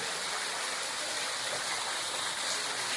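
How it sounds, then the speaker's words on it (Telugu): Water pours steadily from the spout of a stone Nandi statue at Yaganti temple, a close, continuous rushing splash with no pauses. "నంది నుంచి నీళ్ళు వస్తున్నాయి."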